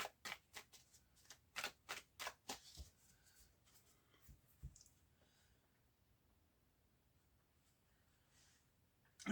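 A deck of tarot cards being cut and shuffled, a rapid run of crisp close card flicks and taps over the first few seconds, then a couple of soft thuds before near silence.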